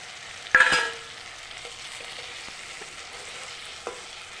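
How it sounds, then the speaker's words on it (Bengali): Rohu fish pieces frying in spice masala while being turned, a sharp clatter of the spatula at first, then a low steady sizzle with a few faint scrapes. "মাছগুলো মশলা দিয়ে একটু এপিট ওপিট করে নেড়ে চেড়ে দিচ্ছি"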